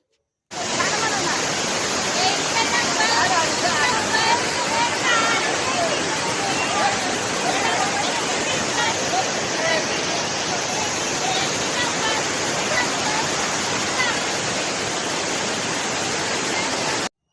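A waterfall with strongly flowing water roars as a dense, unbroken rush, loud and steady throughout, with no clear voices over it.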